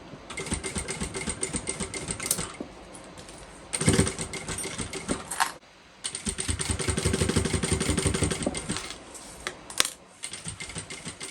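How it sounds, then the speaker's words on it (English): A sewing machine stitches the raw edge of a fabric bucket bag in several bursts of rapid mechanical whirring, pausing briefly between runs, with sharp clicks as the fabric is adjusted, close and steady. "this is where we sew up that raw edge that we left to turn it"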